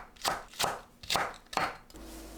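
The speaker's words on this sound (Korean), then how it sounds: "청양고추를 어슷 썰어주세요." A knife chops Cheongyang chili peppers diagonally on a cutting board, four crisp, evenly spaced strokes close up with no voices.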